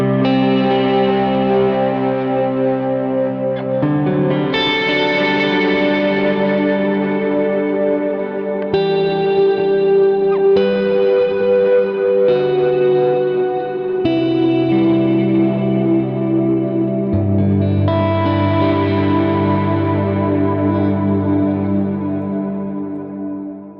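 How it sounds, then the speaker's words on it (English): Guitar through a Line 6 Helix preset with a bright ambient cloud-style reverb, sustained chords ringing into a lush wash with shimmering echo and chorus-like movement, loud and continuous with no voices. "It's labeled cloud, but it is just a bright ambient style reverb that's on this preset."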